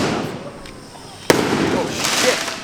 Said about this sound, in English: we've got the drone up for the firework display